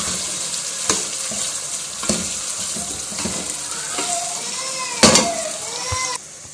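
Chicken imrani in a creamy sauce with added cream, stirred and frying in a pan, giving a steady close sizzle with repeated scraping knocks of the spoon against the pot.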